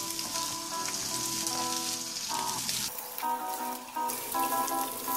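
Half-cooked onion rings sizzle in a hot pan for pork chop bistek, a continuous close frying hiss with some faint tonal clinks and a short dip near the middle, with no voices.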